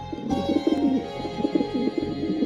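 A pigeon coos in soft, repeated low throaty phrases throughout, close and steady, with a faint background hum and no talking.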